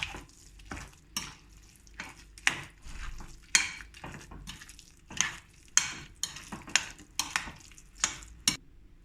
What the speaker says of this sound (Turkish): Şimdi bütün malzemelerimizi karıştırıyoruz.